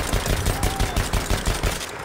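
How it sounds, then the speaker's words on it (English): Dense, rapid gunfire from a shotgun and a Browning Automatic Rifle in the World War I shooter Battlefield 1, a continuous rattle of overlapping shots at close range with no pauses. "Shotgun and a BAR hit me now."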